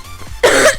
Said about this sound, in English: So I need a cough again.